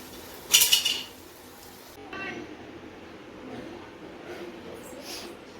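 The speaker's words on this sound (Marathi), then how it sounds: "आता आपण शेंगदाण्याचा कूट ॲड करूया आणि छान मिक्स करून घेऊया." Tondli being stirred with crushed peanuts in a pan, opening with a sharp metallic clatter of a spoon against the pan, then softer scraping and mixing sounds that fade to quiet.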